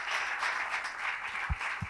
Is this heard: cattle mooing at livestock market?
no